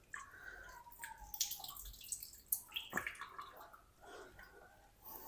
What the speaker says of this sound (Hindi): इस तरीके हाथ में इसको इकट्ठा कर लेंगे और अच्छी तरह ना पानी निचोड़ देंगे इस तरीके